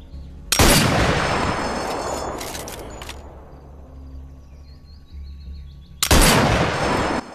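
Sniper rifle fired at targets in Sniper Elite VR: two loud, sharp shots several seconds apart, each followed by a long echoing tail that slowly fades, with no talking.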